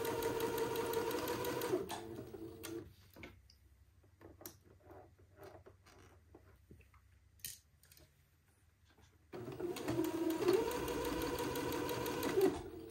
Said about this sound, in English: using a straight stitch, I will sew this entredeau to the armhole opening